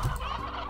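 Chickens in the video game Slime Rancher give a short, close burst of clucking.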